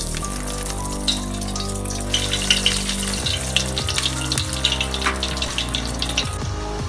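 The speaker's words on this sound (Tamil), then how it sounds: "எண்ணெய் சூடானதும் இந்த கட்லெட் எடுத்து ஒன்று ஒன்றா அதில் போட்டுக்குவோம்." Vegetable cutlets frying in hot oil in a kadai give a steady, loud watery crackle and hiss with scattered pops and bubbling bursts, continuous throughout with no voices.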